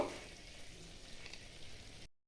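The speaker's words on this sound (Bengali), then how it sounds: "যেহেতু এটা চিকেন ভোনা হচ্ছে তাই জন্য এটা আরও আমি এক থেকে দু মিনিট ভালো করে কষিয়ে নেব" Chicken bhuna masala frying in oil in a pan, a steady soft crackle and sizzle that runs evenly for about two seconds before cutting off.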